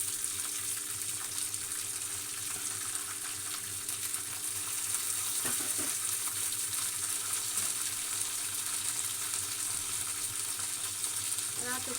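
Curry leaves and mint sizzle steadily in hot oil in a pan, a continuous close crackling hiss throughout, with a couple of faint utensil knocks partway through.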